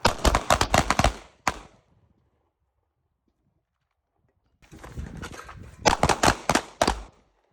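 Pistols fired on an outdoor concealed carry shooting course: several shooters loose quick ragged volleys of sharp shots, then a long silence, then another string of rapid cracks, all fairly close.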